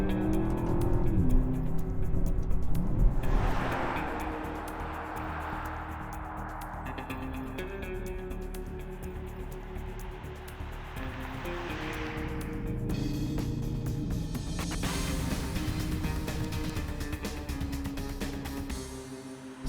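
A 2021 Aston Martin DBX accelerating hard through quick paddle-shifted gear changes, its engine roaring close and loud, with a strong surge at the start and a brighter rise in the last seconds.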